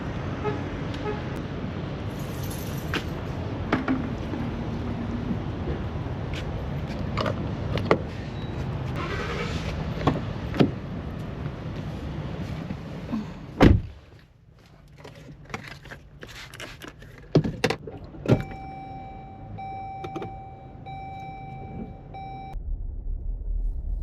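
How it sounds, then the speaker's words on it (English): A car passing through a car wash: water spray and brush noise wash over the vehicle for a long stretch, then thumps, clicks and a steady electronic beep tone follow as it moves on. "pass through the car wash"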